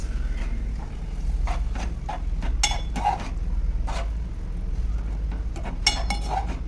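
A spoon stirs carrot halwa with milk in a pan, making scattered light metallic clinks and scrapes, close and fairly soft, over a low steady kitchen hum.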